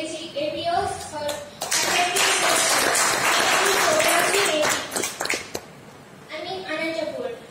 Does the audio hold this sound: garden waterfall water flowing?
no